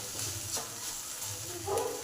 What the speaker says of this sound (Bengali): এবার পেঁয়াজ কলিটাকেও নেড়ে দিই যাতে ভালোভাবে সেদ্ধ হয়ে যায়।